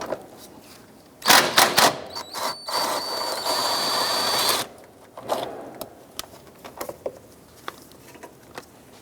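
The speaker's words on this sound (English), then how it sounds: "At the bottom of the air box, you want to go ahead and remove this 10mm bolt." A 10mm bolt being removed from the bottom of the air box on a 2005-2009 Subaru Outback: close ratcheting and clicking bursts with metallic scraping, then scattered small taps and handling noises.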